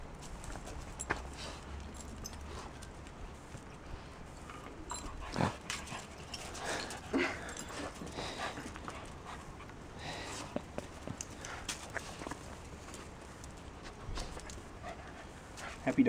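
Puppies on a play date scamper and pant close by, with quick scuffling footfalls, soft thumps and breathy panting in a fairly quiet, uneven stream.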